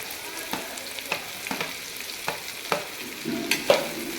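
Finely chopped capsicum fries in a pan while a spoon stirs it, sharp regular scraping clacks landing roughly every half second over a low quiet sizzle, close and alone without speech.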